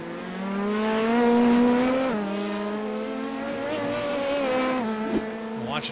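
Race cars in a sports car championship video game at Le Mans, one engine loud and close, dropping in pitch as it brakes hard for a chicane, then droning steadily before a short squeal near the end.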